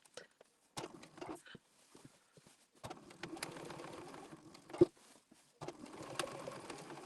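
A sewing machine stitches outlines around shapes on a patriotic tea towel, giving quiet, close bursts of rapid mechanical rattling separated by pauses as the fabric is turned.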